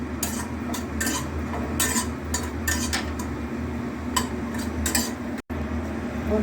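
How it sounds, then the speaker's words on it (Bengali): Lentil dumplings fry in mustard oil while a utensil scrapes and clinks against the pan in quick, irregular strokes, close and steady over a low background, with a brief dropout near the end. "বড়িটা একটু ভেজে নেব।"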